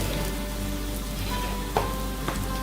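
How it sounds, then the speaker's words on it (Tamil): Garlic sautéing in oil in a pan, a soft, steady sizzle and crackle at low volume, with a couple of brief clinks from stirring near the end. "பூண்டு நல்லா வதக்கிக்கலாம். பூண்டு நல்லா வதங்கிருச்சு."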